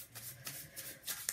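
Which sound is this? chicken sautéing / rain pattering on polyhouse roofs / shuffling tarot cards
shuffling tarot cards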